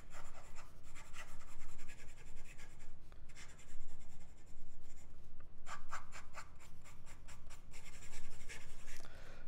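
Fast handwriting with a fine-nibbed Platinum President fountain pen on paper: clusters of quick scratchy strokes, close and distinct, separated by short gaps, without speech.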